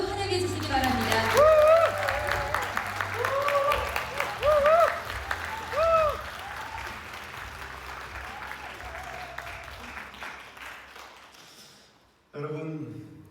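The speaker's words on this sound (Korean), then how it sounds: "여러분 뜨거운 박수로 환영해 주시기 바랍니다" An audience applauds warmly to welcome a National Assembly member onto the stage at a youth leaders' forum talk, the clapping loud and sustained before fading, with a voice starting to speak near the end.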